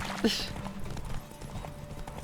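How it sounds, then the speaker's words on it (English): Horses gallop in a race in the video game The Witcher 3, their clip-clop hoofbeats a steady rhythmic patter under game music and a brief voice. "apparently we're having another horse race"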